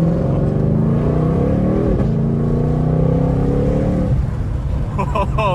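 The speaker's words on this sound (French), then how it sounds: "L'effet compresseur, ça pousse en même temps que le moteur, en fait." A supercharged Ford Mustang Shelby GT500 engine revs and accelerates inside the car, a steady, loud, rising drone that runs the whole time, with voices talking over it.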